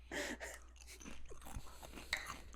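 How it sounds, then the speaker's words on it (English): Food is crunched and chewed right into a podcast microphone, a close, quiet series of crisp bites and grinding over low hum. "You're crunching into the microphone."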